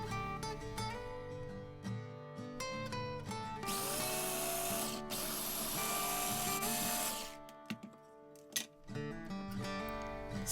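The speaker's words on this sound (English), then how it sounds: "place the bread into a mixer and blend all of it up into breadcrumbs" A food mixer whirs loudly for about three seconds as bread is blended into breadcrumbs, with steady background music playing before, during and after.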